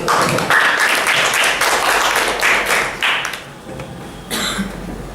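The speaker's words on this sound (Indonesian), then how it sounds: "Oke, beri aplaus dulu." A class of middle-school students claps in a brief round of applause, a dense, loud patter that fades after a few seconds and picks up briefly again at the end.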